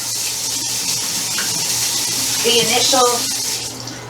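Tap water running steadily into a sink while flour dough goop is rinsed off fingers, a constant close splashing rush with a brief voice partway through.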